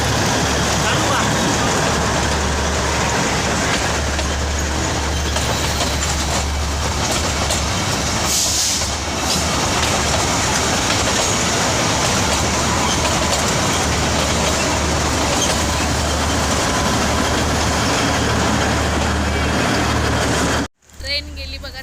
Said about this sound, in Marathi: ट्रेन गेली बघा ट्रेन